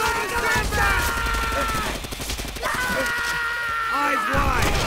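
Sniper and rifle gunfire in the World War II shooter Call of Duty: World at War, sharp shots crackling over a busy battlefield din, with shouting voices throughout.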